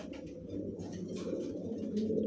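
A black Janssen racing pigeon, a female sitting on eggs in a loft, coos in soft, repeated low calls, close by and alone.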